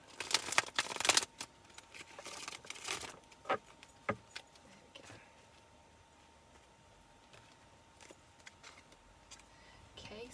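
Rapid papery riffling and slapping of tarot cards in short bursts during the first few seconds, followed by scattered soft taps and handling sounds in a quiet room.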